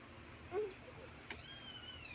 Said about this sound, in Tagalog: ito yung aming mga pusa